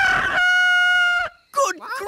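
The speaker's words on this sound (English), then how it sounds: "What are those chickens doing here?" Cartoon rooster crowing in a long, loud, sustained cock-a-doodle-doo, then a burst of hen clucking right after a brief pause.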